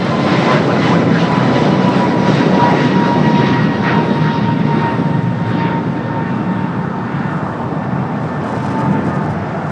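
Airliner taking off from runway 25 right at Los Angeles International Airport, a loud sustained engine roar with a steady whine that slowly eases as the aircraft climbs away.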